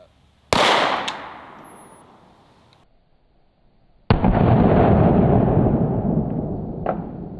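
An FN 5.7 pistol fires twice into a ballistic shell: two sharp, loud reports about three and a half seconds apart, each with a long, ringing decay.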